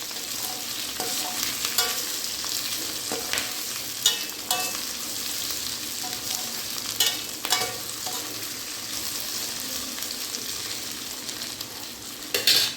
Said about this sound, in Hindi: अब इसी में मैं डालूंगी ये जो मैंने 2 आलू काट के रखे हैं, इसको भी, आलू को भी 2 मिनट तक भूनेंगे